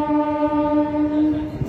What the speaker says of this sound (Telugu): మన మెమో ట్రైన్ ఆంకింగ్ అయితే విన్నారు కదా